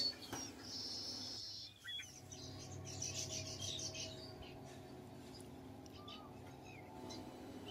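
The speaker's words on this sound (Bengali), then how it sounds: "আপনারা এই ব্লগে শুনতে পাবেন কত ধরনের পাখির আওয়াজ।" Birdsong near a Ganges riverside ghat at a resort, faint chirps and short tweets scattered over a low hum of distant background noise, with no talking.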